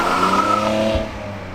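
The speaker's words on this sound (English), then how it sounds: "Louis is going to come flying past up here in second gear" A car accelerating hard in second gear as it flies past close by, its loud exhaust roar rising and then dropping in pitch as it goes past, with no voices.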